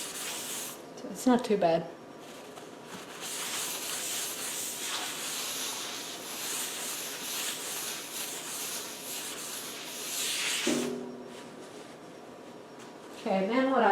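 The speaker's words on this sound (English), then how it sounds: "Just want to get that excess rust powder off." Excess rust powder rubbed off a cast-iron cookstove, a continuous close scratchy rubbing and scouring hiss lasting many seconds, with a person briefly speaking at the start and again at the end.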